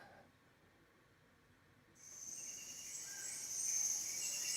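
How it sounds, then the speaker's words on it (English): High, thin chirping and trilling from small birds in India begins partway through after a quiet start, steady and continuous at moderate distance. "Those are Little Birds I recorded in India."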